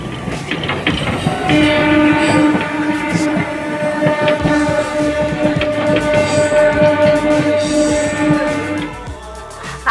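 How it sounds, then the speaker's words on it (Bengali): A loud train rumbles close by at Santragachi railway station with a long, steady horn blast over clanking, rattling wheels and machinery, fading slightly at the end. "দেখো আমরা চলে এসেছি সাঁতরাগাছি স্টেশনে"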